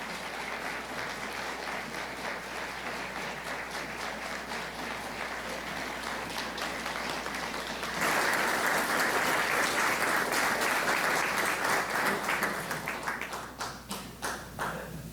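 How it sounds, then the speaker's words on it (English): Audience applause for a veteran at a museum tribute honouring local veterans: steady clapping throughout from a crowd, swelling louder partway through, then thinning out near the end. "Could we please have a round of applause for Aircraft woman Cracknell?"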